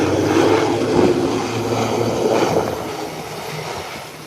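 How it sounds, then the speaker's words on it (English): A Bahamasair ATR 72 turboprop airliner touching down, its propeller drone and rushing roar steady and fairly loud throughout, swelling slightly at moments with rail-like rumble in the low end. "here you have a touchdown, the ATR 72 out of the Bahamas"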